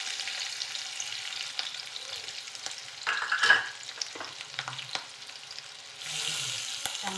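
Butter, finely chopped capsicum and tomato fry in a pan for pav bhaji, a steady soft sizzle with brief stirring scrapes and a louder burst of crackling near the end.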